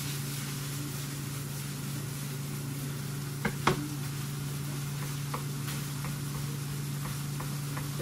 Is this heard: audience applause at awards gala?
no